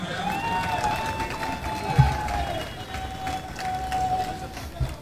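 Crowd noise at a political campaign rally in Kalyan Rural as a work report is released, a continuous wash of applause and voices with a sustained tone running over it.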